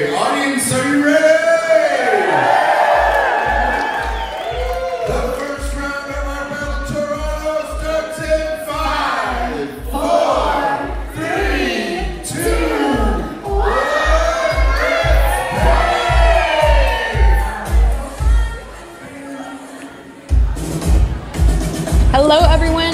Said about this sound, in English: When we get to one, we're all going to scream, "Let's paint!"